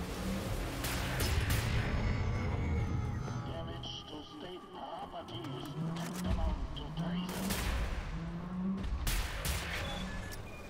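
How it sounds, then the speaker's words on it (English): Rapid bursts of gunfire from the video game Wolfenstein: The New Order, loud and repeated in clusters throughout, with a voice heard faintly in the background. "Come on, stop shooting."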